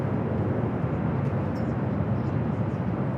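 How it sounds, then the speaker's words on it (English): Jet airliners roll and take off on runway 24 Left at LAX, heard as a broad, steady roar of engine noise from some distance that holds at an even level throughout, with no voices. "I have a long line of takeoffs on 24 left as well."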